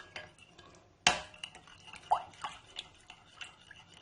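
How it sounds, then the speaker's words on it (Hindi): Spiced masala mixture for golgappa (pani puri) chutney stirred with a spoon in a pot: a sharp clink, then soft intermittent scraping and light taps, close and fairly quiet. "अब इसको अच्छी तरह मिक्स कर देते हैं।"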